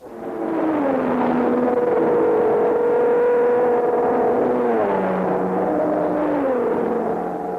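An Aston Martin race car's engine hums loud and steady throughout, its pitch sliding down as it slows and pulls into the pits, with no talk over it.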